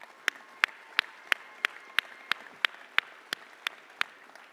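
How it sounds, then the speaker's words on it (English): A handful of sharp, evenly spaced claps ring out one after another from an audience at a high school graduation ceremony, each crack distinct and fairly close over a soft room background. "So Crystal, one more round of applause for just."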